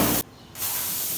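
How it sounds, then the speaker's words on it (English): A DeLaval milking robot fires a short, loud burst of post-milking iodine teat spray, a sharp hiss that cuts off abruptly, set against steady barn machinery hum. "that's gonna spray her post iodine spray"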